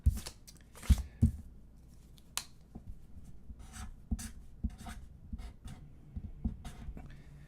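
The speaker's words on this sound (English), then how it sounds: "I'm going to write it down, John." A pen scratches a name onto a card at a live candle sale, with quick intermittent strokes and small taps, close and fairly quiet, with no talking.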